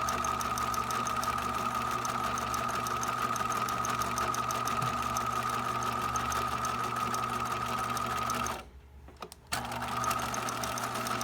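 A sewing machine top stitches along a seam in a long, even, continuous run, stopping briefly near the end before a short restart.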